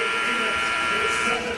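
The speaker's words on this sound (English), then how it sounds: "The buzzer sounds." A loud, sustained electronic buzzer blares through a college basketball arena during a Tennessee versus Rutgers men's game, a steady harsh tone over crowd noise and an announcer's voice.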